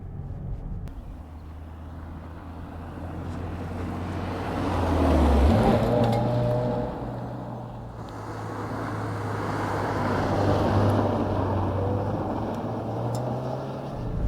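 A 2022 Subaru WRX driving hard on rough gravel, its engine droning steadily with pitch rising and falling as it accelerates, over a constant rumble of tires on loose stones.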